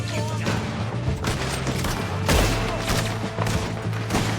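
Gunfire in Red Dead Redemption 2 during a trail chase, a dense run of overlapping shots and booms with one heavier blast near the middle, over a steady rumble of game noise.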